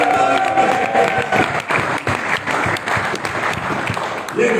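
Audience applause at a live third-anniversary celebration event in Bangkok, sustained dense clapping from a large crowd, loud and continuous with faint cheering mixed in.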